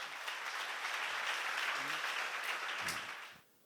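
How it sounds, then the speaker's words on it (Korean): A church congregation at a Korean sermon seminar claps loudly in a dense, sustained burst that lasts about three seconds, then fades out quickly, with a brief voice underneath. "박수."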